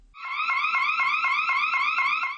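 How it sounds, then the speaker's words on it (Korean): A loud electronic restroom alarm siren, triggered by a scream, rapidly warbles in fast repeating rising sweeps for a couple of seconds, close and steady. "곧바로 사이렌이 큰 소리로 울리고"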